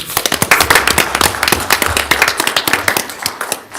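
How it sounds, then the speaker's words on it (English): A small board of directors meeting breaks into scattered clapping for its chairman, a few dozen close hands slapping in quick uneven bursts, fairly loud, thinning out toward the end. "we should give our chairman an applause for his thank you. leadership."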